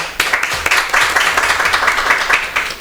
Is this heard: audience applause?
yes